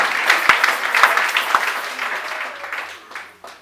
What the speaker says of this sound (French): Acclamons, acclamons pour Let's le put our Seigneur. hands together for Jesus Christ.